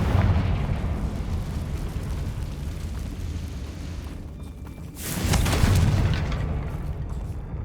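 Confringo spell explosion in Hogwarts Legacy, a low rumbling blast that builds and swells in a second loud surge midway, then slowly dies away with a sustained roar.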